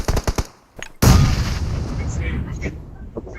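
Gunfire erupts in a shooting video game, starting with a few sharp single shots and then a long, loud sustained burst of automatic fire and explosions. A voice chatters briefly over the top.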